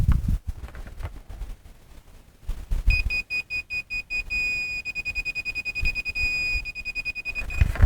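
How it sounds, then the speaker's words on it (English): Grade stake level beeper at a dig site: a run of rapid, evenly spaced electronic beeps at close range begins partway through, sounding over rustling and handling noise outdoors. "turn on the beeper"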